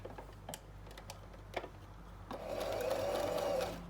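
A sewing machine runs a short burst of stitching on fabric ruffles, a steady mechanical whir rising after a few soft handling clicks and taps, close and moderately loud before it winds down.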